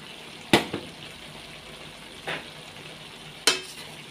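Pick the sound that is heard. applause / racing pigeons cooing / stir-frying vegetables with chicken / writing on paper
stir-frying vegetables with chicken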